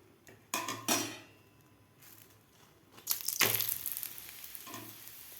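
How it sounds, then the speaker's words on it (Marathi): Flatbreads for egg rolls roast with oil on a hot griddle over full flame, giving bursts of sizzling alongside a few sharp pan clatters, close and fairly loud, with no talking. "हे पोळ्या आता आपण भाजून घेऊया"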